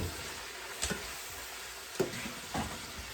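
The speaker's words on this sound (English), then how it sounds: "I was just using that fat to do this shaved steak" Shaved steak sizzles faintly in rendered fat in a pan, a soft, steady hiss punctuated by a few brief clicks and stirring scrapes, quiet and close.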